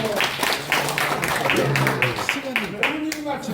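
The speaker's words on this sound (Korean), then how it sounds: "여러분들 큰 박수 한번 다시 부탁합니다." Lecture audience clapping on request, a burst of many hands applauding while a voice keeps talking loudly over it.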